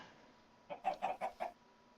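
Blocky Minecraft chickens, the smart bred kind, give a quick run of five soft clucks in an even rhythm, close and clear over a quiet room-tone background with no talking.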